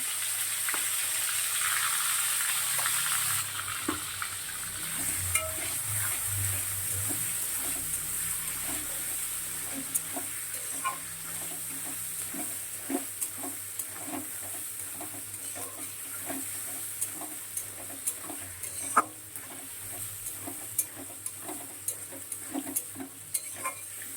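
Chopped onion and tomato fry for chicken curry in oil already spiced with whole cardamom, cloves, cinnamon and pepper, giving a loud, steady close sizzle. Occasional scraping stirs and clicks sound over the frying.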